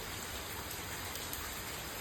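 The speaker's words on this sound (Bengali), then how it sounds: "দুপুর থেকে বৃষ্টি পড়ছে" Rain falling outdoors, a faint, steady patter and hiss of drops heard at a distance, constant through the brief stretch with no voices.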